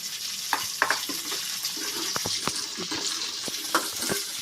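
Ivy gourd (dondakaya) pieces fry in a pan with a steady hiss of hot oil, broken by scattered clicks and scrapes of stirring, close and fairly loud.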